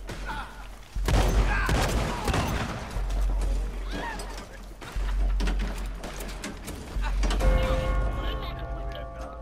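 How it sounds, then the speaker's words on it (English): Semi-automatic shotgun blasts in Red Dead Redemption, several loud booming shots fired in quick bursts with game sounds and talk over them. "Semi-auto fucking shotgun"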